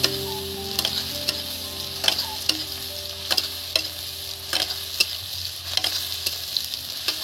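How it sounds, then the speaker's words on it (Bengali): Chopped onions fry in rendered mutton fat for ghugni, a steady close sizzle broken by repeated scraping stirs of a spoon against the pan. "এই যে কুচি কুচি করা পেঁয়াজটা দেওয়া হয়ে গেছে, দেখছেন"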